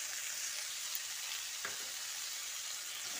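Potatoes and tomatoes sizzle faintly in a pan as green peas are added, with a soft, even frying hiss and one brief dull tumble partway through, no speech.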